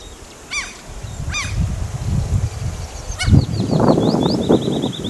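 Large waterfowl honking in flight over a village countryside, two short honk bursts then a louder run of repeated calls amid wind and rustling, fairly near and clear.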